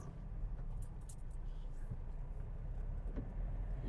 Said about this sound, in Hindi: ये लो मैं थर्ड गियर में कर दी कार, अब ये चल रही कार